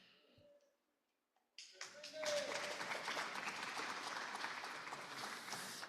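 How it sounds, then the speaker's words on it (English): Audience applause in a Rotary Club meeting room follows a brief quiet stretch and a faint voice, then bursts in and holds as steady, fairly loud clapping from a group to the end. "Thank you for that unsolicited applause."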